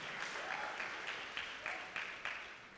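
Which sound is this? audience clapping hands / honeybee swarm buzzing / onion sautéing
audience clapping hands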